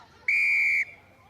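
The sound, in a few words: referee's whistle in a rugby sevens match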